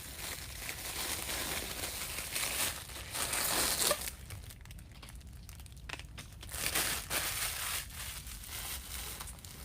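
Deco mesh ribbon being cut and handled for a Valentine's Day wreath, giving steady close crinkling and crunching rustles with brief louder bursts, no talking.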